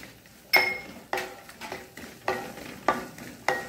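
Dry coconut and beaten rice for poha chivda are tossed in a pan over moderate heat, with about six sharp scraping stirs at a steady pace over a faint crackle.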